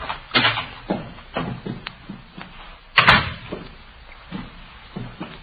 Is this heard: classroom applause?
no